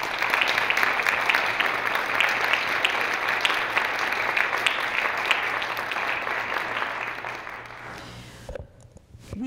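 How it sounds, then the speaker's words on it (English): An audience at a college honor society ceremony gives a long, dense round of applause for students, steady and full for most of the stretch before thinning out and fading near the end. "I do want to provide one more round of applause for these wonderful students this evening to celebrate their"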